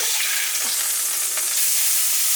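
A steak seared on its side in a hot pan, a dense, loud, unbroken sizzle heard up close with no talking.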